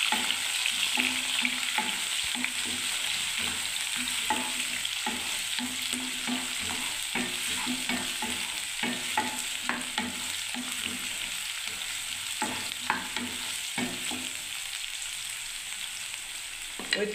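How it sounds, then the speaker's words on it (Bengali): Chopped onion frying in oil in a pan, left over from frying potato and carrot, gives a continuous close sizzle broken by frequent spatula scrapes and stirring clatter throughout, with no talking. "কুচো পেঁয়াজটাকে আমি একটু ভেজে নিচ্ছি লাল লাল করে।"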